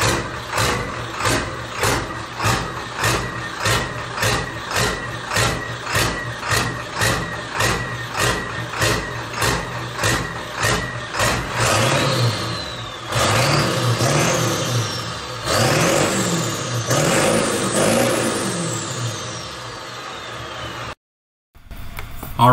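A 7.3 Powerstroke diesel engine in a Ford Bronco idles with an uneven, loping rhythm, then revs up several times in rising and falling surges before cutting off abruptly near the end.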